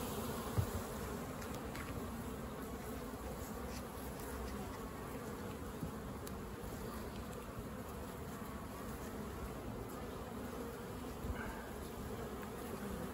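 Honeybees swarm around an opened hive during brood frame inspection, a dense, steady buzzing hum that holds close and even throughout with no voices.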